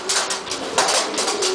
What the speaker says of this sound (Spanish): unos vídeos de los pichones que me quedé del control